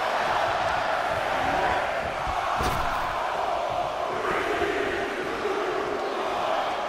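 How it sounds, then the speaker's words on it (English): An arena crowd in the WWE 2K22 wrestling video game roars continuously in the background, a dense wash of cheering voices with a brief thud partway through, no clear separate count beats. "Listen to this crowd count the next one in."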